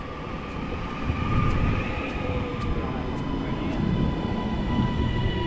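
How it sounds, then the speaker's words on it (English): A Northern Class 331 electric multiple unit pulls into a station platform on the Blackpool line, a steady loud rumble of wheels and motors with faint high squeals, no talk. "arriving in now is going to be the 14:31 Northern service from Blackpool North to Manchester Airport"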